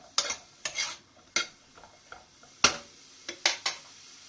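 Mushrooms sautéing in a pan, with a faint sizzle under a series of distinct spatula scrapes and clinks against the pan, irregular and close, about eight strokes.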